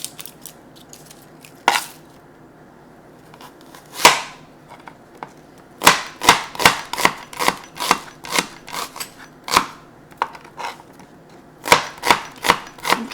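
A knife cuts a shallot on a cutting board in a home kitchen, giving crisp, close chopping taps: scattered single strikes at first, then quicker rhythmic bursts, with quiet pauses between runs.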